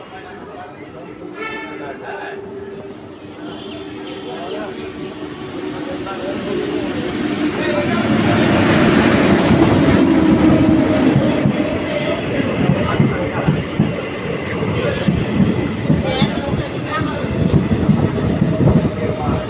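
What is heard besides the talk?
train at Nabadwip Dham station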